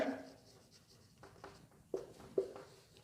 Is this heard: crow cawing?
no